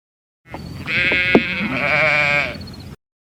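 A white sheep bleats in one long, wavering, nasal call lasting about two seconds, close and clear with nothing else around it.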